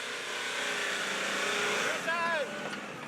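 A 4WD towing a camper trailer revs its engine in the Simpson Desert sand, a rising whine heard partway through and mixed with a steady engine drone and people talking nearby.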